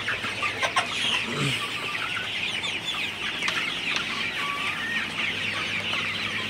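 A flock of Sonali super hybrid chickens on a farm, fifty-one days old, cluck and call continuously in the morning, with a few sharper squawks over a busy, moderately distant barnyard murmur and no talking.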